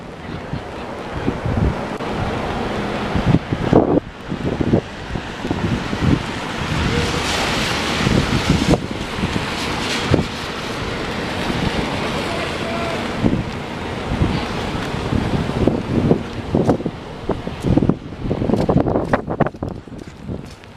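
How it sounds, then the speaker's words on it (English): Gusty wind blows on an Old City Philadelphia street, loud rumbling buffets hitting the microphone in uneven surges with no speech. "it's kind of gusty out here"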